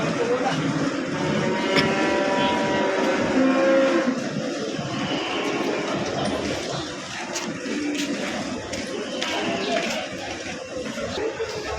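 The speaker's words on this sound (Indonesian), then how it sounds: "Sapi yang datang untuk saya ini sangat banyak." Cattle lowing and mooing repeatedly at the busy Payakumbuh livestock market, several animals calling near and far over a constant crowd murmur, with people talking throughout.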